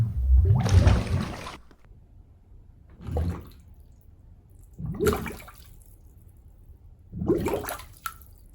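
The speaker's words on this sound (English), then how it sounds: "This is then followed by another air bubble sound." Processed air bubble effect for water-themed horror sound design: several separate bubbling, gurgling bursts, a long loud one first, then three shorter surges spaced about two seconds apart against near silence.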